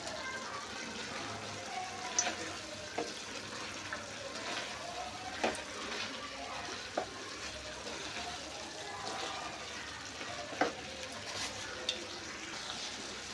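A spoon scrapes and stirs chicken thokku masala for biryani as curry leaves go in, giving irregular clinks and scrapes over a low background sizzle that runs steadily for several seconds.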